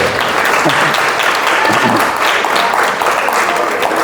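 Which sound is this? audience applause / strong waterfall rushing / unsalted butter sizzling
audience applause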